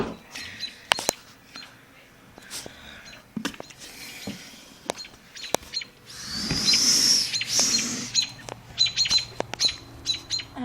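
Birds chirp outside a window, with scattered short calls and a busier stretch of twittering over a steady background hiss and low rumble.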